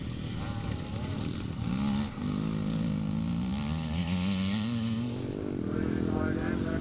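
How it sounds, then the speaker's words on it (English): An old Czechoslovakian CZ scramble motorcycle races past on a course, its engine revving and rising in pitch, loud and nearby, while a commentator talks over it. "I think Liam's riding an old CZ, an old Czechoslovakian CZ bike."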